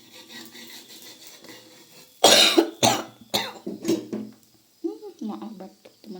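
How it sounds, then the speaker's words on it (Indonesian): A few sharp, close coughs burst out after a quiet stretch with faint background noise, followed by softer scraping sounds. "Maaf batuk"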